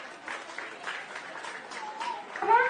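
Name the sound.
audience applause for participants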